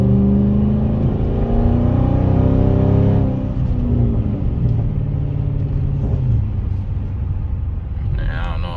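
A Chrysler 300C engine swells into a loud, rising rev as the car accelerates under more throttle, then settles back to a lower steady rumble heard from inside the car.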